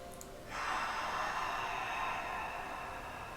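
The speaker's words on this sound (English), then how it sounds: "In yoga, we call it Ujjayi breathing." Ujjayi yoga breathing, a long, steady, airy breath drawn through a constricted throat, close and soft, sustained for a few seconds in a quiet room with no talking.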